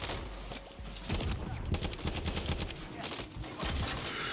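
Rapid bursts of gunfire in the Modern Warfare 3 campaign, fighting a soldier with a riot shield; repeated sharp shots cluster through the middle of the scene over a busy battle background, with some faint voices mixed in.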